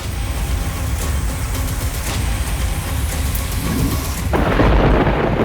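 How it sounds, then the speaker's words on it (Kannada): An unseasonal hailstorm with heavy rain in Haveri district, Karnataka, brings a loud, steady roar of downpour and low rumbling thunder throughout. The storm swells into a harsher, denser pounding near the end. "ರಾಣೆಬೆನ್ನೂರು, ಹಾನಗಲ್ ಸೇರಿದಂತೆ ವಿವಿಧೆಡೆ ಮಳೆರಾಯ ಅಬ್ಬರಿಸಿ ಬೊಬ್ಬಿರಿದಿದ್ದಾನೆ"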